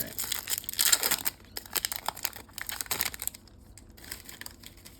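Plastic Magic: The Gathering booster pack wrappers from a Lord of the Rings set being crumpled nearby, with dense crinkling bursts in the first few seconds and softer, intermittent rustling after.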